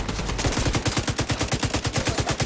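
Rapid automatic gunfire from The Division 2 rattles in a steady, even burst of sharp shots, close and loud, lasting the whole stretch without pause.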